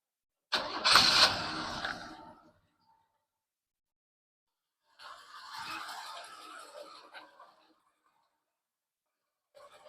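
A 1968 Chevelle with a high-mileage six-cylinder engine and Rochester carburetor cranks and catches in a short burst, falls quiet, then runs again briefly at moderate volume, with no talk.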